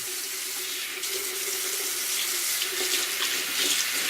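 Tap water running steadily into a smooth ceramic basin while a paintbrush is rinsed, a constant close hiss and splash with small shifts in tone as fingers work the bristles.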